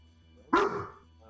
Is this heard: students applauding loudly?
no